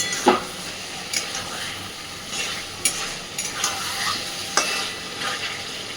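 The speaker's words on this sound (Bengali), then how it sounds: "আবারও সময় ধরে একটু সুন্দর করে কষাতে থাকবো।" Dhaba-style chicken curry is stirred and sautéed in a pan, a constant soft sizzle broken by several sharp spatula scrapes and knocks at irregular intervals, close and moderately loud.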